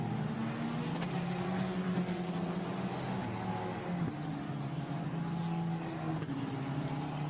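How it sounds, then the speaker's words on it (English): Formula Renault Eurocup race cars at Imola idle and rev steadily in a continuous loud engine drone behind the safety car before a rolling start, with no voices. "So David Vidales gets ready to accelerate away just to make sure that he doesn't get mugged on the line"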